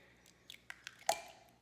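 A farm-fresh egg is tapped and cracked into a mixing bowl: a few faint taps, then one sharp crack, quiet and close in an otherwise hushed kitchen.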